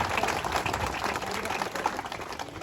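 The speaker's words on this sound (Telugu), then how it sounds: "చప్పట్లతో ప్రభుకు వందనాలు తెలియజేద్దాం" Church congregation clapping together during a service at a shrine opening, a steady dense patter of many hands close by and loud throughout, with no voices over it.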